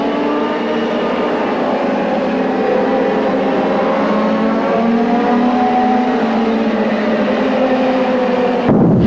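IndyCar race cars roar continuously past at the Nazareth oval, a loud sustained engine drone with shifting pitch that rises at the very end.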